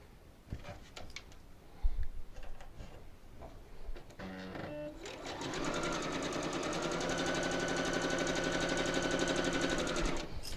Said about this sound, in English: I'm going to sew 3 different rows to begin